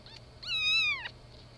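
A young kitten from a litter gives a single clear, high-pitched meow lasting about half a second, close and fairly loud, with a faint squeak just before it.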